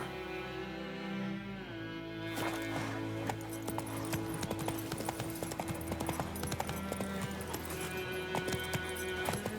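Hoofbeats of a horse ridden in The Witcher 3, a steady clip-clop rhythm running throughout over a dense bed of game music and ambience, with no talking.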